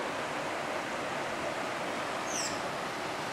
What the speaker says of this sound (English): Just bubbling up right here.